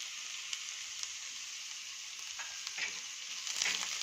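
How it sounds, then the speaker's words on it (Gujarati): Garlic and green chilies sauté in ghee over a low flame for a Kathiyawadi lasaniyo rotlo, with a steady soft sizzle and occasional light scrapes of stirring, heard alone without talk. "ધીમી ધીમી આંખે આને આપણે ધીમે ધીમે આ રીતે ચલાતા રહીએ અને સાંતળીશું"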